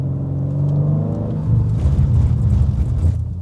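A BMW M car braking on a rain-soaked road gives a low engine rumble that wavers and pulses as the ABS cycles, swelling slightly toward the end with no one talking.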